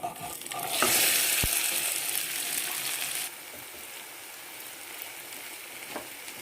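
Green peas fry in a spiced tempering for matar khasta, giving a bright, loud sizzle as they hit the oil. The sizzle settles into a quieter steady frying, broken by a few stirring knocks.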